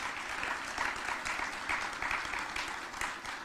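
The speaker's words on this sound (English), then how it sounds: "You can give him a big round of applause." Audience applause for the Loans Program Office director at an announcement event for a battery recycling hub in Rochester: a dense, even wash of many hands clapping, moderately distant and fairly quiet, with no talking over it.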